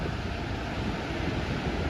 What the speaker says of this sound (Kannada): ಇಲ್ಲಿ ನೋಡ್ಬೋದು ನೀವು ಎಷ್ಟು ಮಸ್ತ್ ನೀರು ಬೀಳಾಕತೈತಿ, ಹಂಗೆ ಹಾಲು ಬಿದ್ದಂಗೆ ಅನ್ಸಕತೈತಿ